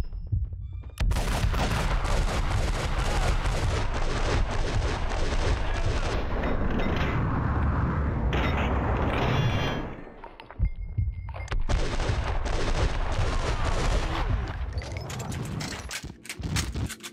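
Gunfire in Max Payne 2 plays as dense, loud bursts of rapid shots over about seventeen seconds, dropping briefly to near quiet before the shooting resumes.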